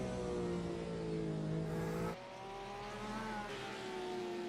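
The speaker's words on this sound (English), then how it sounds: "listen to the sound of this Porsche as it goes around the" A Porsche GT race car laps the Interlagos circuit during a GT Masters three-hour event, its engine droning loud and steady with shifting harmonics, the pitch dropping abruptly midway as it gears down or moves away.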